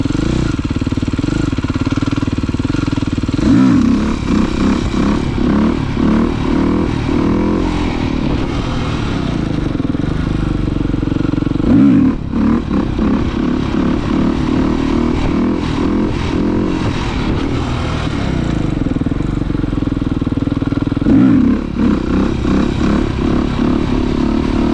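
A motorcycle engine drones steadily and loud throughout, with several sharp throttle bursts standing out over the continuous rumble.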